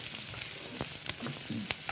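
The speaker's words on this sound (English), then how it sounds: "So we're just going to saute that off." Thyme and rosemary sautéing in a hot pan give a steady crackling sizzle, with a few sharper pops and spatula scrapes standing out close by.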